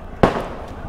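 A single firecracker bursts with a sharp, loud crack near an Indian Army area, followed by a brief fading rumble and faint further pops.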